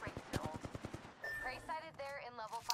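Rapid bursts of automatic gunfire from an Apex Legends match crackle in quick succession at first, then give way to game effects and electronic tones, with a voice talking briefly.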